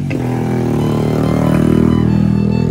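A 450cc motorcycle engine revs under quick throttle, loud and close, with a rough idle that rises into a sustained, harmonically rich roar before easing slightly.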